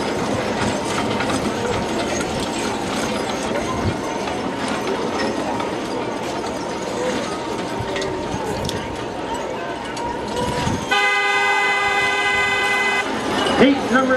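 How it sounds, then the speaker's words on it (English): A horn sounds from about the eleventh second, a loud sustained blast signalling the start of a barrel-race heat at an outdoor rodeo, over continuous crowd noise and an announcer's talk. "Go here as the horn sounds."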